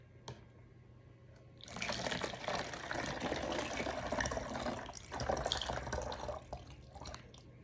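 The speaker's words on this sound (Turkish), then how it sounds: "suyumuzu burada dökeceğiz" Water poured into a container while making iced coffee: a steady, close splashing stream starts after a short quiet lead-in and runs to the end, with no talking.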